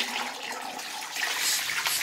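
Vintage-style toilet flushing, a steady rushing, gurgling water surge that swells slightly toward the end, close and alone.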